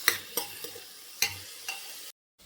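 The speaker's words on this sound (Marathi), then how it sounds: "फ्लावर, शिमला मिर्च आणि गाजर। तर 5 मिनिटासाठी आपल्याला हे परतून घ्यायचं आहे।" Cauliflower, capsicum and carrot sautéed for pav bhaji, with a few scraping stirs of a spoon against the pan over a soft sizzle, close by, before the sound cuts off.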